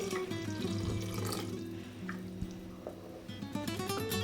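Water runs and pours into a thick, simmering lentil sambar on the stove, a steady splashing gush over a faint tonal background hum.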